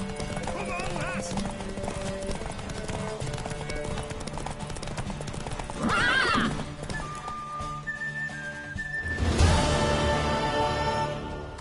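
Hooves clop rhythmically as a horse gallops in The Witcher 3, with a loud neigh partway through and more hoofbeats after it, under music and other game sounds.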